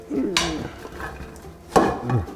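A nice-sized casserole dish handled in a home kitchen while cooking a veg-packed one-pot meal, with two sharp clinks and knocks of dishware set down against a hard surface, close and moderately loud.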